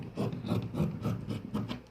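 Umbrella frock fabric is cut into a round skirt piece, giving quiet, rhythmic rasping strokes, several in quick succession, close by.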